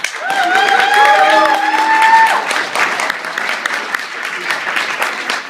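Game show audience applauding and cheering for a team named Serial Commas, a dense wash of clapping with whistles and shouts rising over the first two seconds, then thinning into steady clapping.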